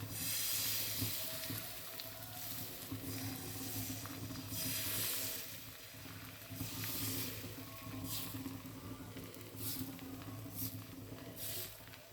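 Patishapta crepe batter fries in oil on a flat griddle over low gas, giving a steady, close, continuous sizzle with gentle swells and no talking.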